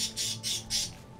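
Three loud, harsh bird squawks in quick succession in the Elder Scrolls IV: Oblivion video game, close and clear over a low background hum.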